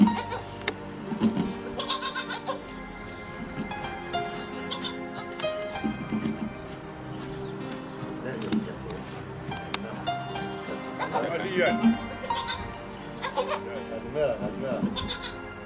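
A goat in labour bleats again and again, loud and strained, with short cries spread across the whole stretch, while people talk nearby in a farm setting.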